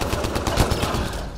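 Rapid automatic gunfire from the video game Mass Effect Andromeda, a dense stream of close, loud shots with a steady rattling rhythm.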